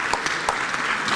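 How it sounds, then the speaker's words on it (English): A conference audience gives a short burst of applause for a chief of staff. The clapping is moderately loud and continuous, with a few distinct hand claps standing out within the brief wash. "Another round of applause for the Chief of Staff."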